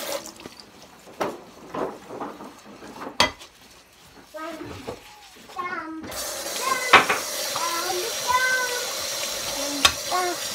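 Dishes and plates being washed at a kitchen sink, with clinks of crockery and cutlery, running water, a cat meowing and people talking intermittently.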